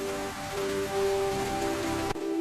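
Rain falls steadily, a continuous hiss of drops heard alone with a faint tonal hum running beneath it.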